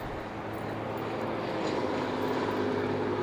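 Red Baron tribute hot rod engine fed by six Stromberg carburetors with zoomie exhaust pipes, a steady droning rumble like a biplane, continuous and slightly rising, with no talk.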